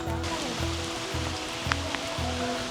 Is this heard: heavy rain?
yes